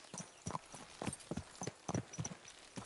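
In Kingdom Come Deliverance 2, a horse's hooves clip-clop in a brisk, uneven rhythm of sharp knocks, close and distinct, with no one speaking.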